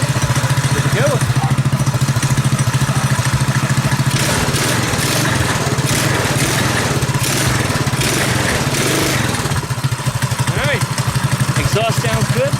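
A Predator 212cc engine on a modified KT196 go-kart with advanced ignition timing runs loud and close, a continuous rapid putter with slight rev changes and no pauses.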